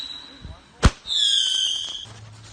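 A firework bursts with a single loud, sharp bang up close, followed by a high, bright whistling screech that holds for about a second before fading into outdoor background.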